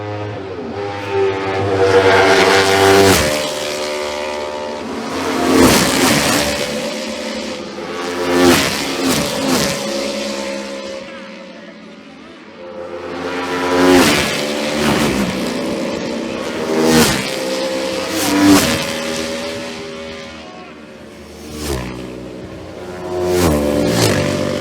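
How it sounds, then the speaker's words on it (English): Manx Norton single-cylinder racing motorcycle competing in the junior race of the Isle of Man TT against a field of fast Hondas, engines rising and falling loudly as machines pass in repeated surges with no talk. "We will see David Tetley again now in the junior race on the sole Manx Norton. This is among a field of very fast Hondas."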